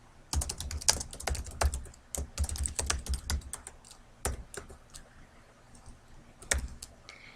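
Tab key pressed repeatedly on a computer keyboard while moving between table cells: crisp, close plastic clicks in irregular bursts and single taps, with short pauses between strokes.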